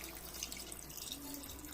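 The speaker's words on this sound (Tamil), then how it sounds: "இந்த ஸ்டேஜில் தண்ணி ஊற்றிக்கிறேன் நான்." Water is poured into a simmering chicken curry gravy, a soft, steady, continuous splashing pour heard close up and fairly quiet.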